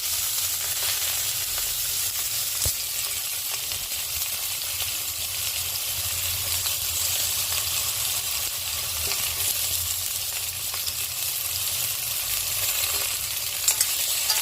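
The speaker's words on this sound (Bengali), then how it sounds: "দিয়ে এবার আলু, বেগুন এগুলো একটু ভাজবো, একটু নরম করে নেবো" Potato and eggplant pieces fry in hot oil in a pan, giving off a steady, close, continuous sizzle with a soft crackle and no talking.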